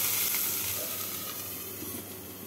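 Bitter gourd (karela) fries in oil in a covered pan over medium heat, giving a soft, even sizzle and hiss with no voices.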